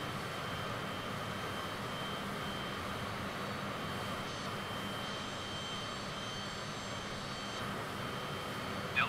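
A Cessna Citation C25C jet in Microsoft Flight Simulator 2020, flying near Delhi's Indira Gandhi Airport, drones with a steady, even engine roar and hiss from start to finish. No voices are heard over it.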